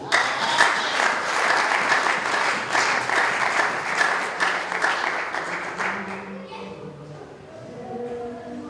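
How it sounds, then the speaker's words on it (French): A church congregation breaks into loud, steady applause and cheering for the Lord, dense clapping that runs for several seconds before cutting off, followed by someone speaking alone. "Est-ce qu'on peut acclamer le Seigneur?"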